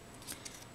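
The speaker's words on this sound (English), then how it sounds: "let's go ahead and cut another piece of that ribbon" Scissors cut a piece of ribbon during holiday card crafting, giving two or three quick, crisp snips close by and otherwise quiet.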